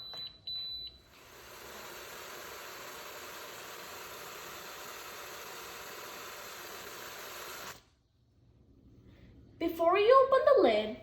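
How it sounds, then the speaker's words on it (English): An electric pressure cooker (Crockpot) set to meat/poultry mode gives a short tone at the start, then a steady even hum for several seconds, followed by silence and a voice speaking near the end. "Now press the meat poultry button and set the timer for 15 minutes."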